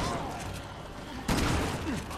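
Gunfire from the Resident Evil 6 Leon campaign, a loud burst of shots under tense game music and effects, with voices talking over the noise.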